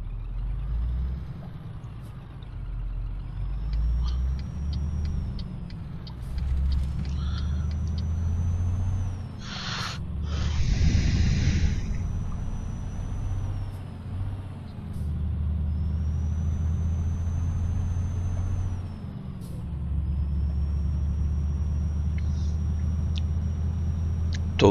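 A Scania truck with a 10-speed gearbox drives in a truck simulator game, giving a steady low engine rumble throughout, with shifts in pitch and a brief hiss of air brakes around the middle.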